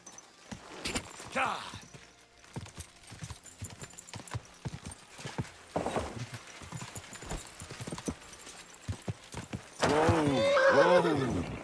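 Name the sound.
horse neighing and hooves, from a video game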